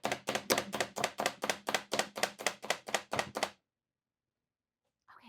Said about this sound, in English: I love how you can control how finely or coarsely in the food chopper